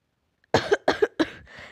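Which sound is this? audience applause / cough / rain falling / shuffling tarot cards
cough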